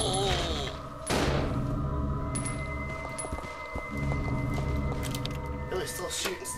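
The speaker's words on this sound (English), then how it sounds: "Billy's still shooting stuff" Gunfire from Billy shooting zombies in the video game Resident Evil 0, a dense stream of sharp shots and thuds over game ambience and music, with people talking throughout.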